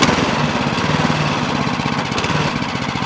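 A Champion Power Equipment 196cc small replacement engine runs steadily nearby, an even rapid chugging putter that holds constant throughout.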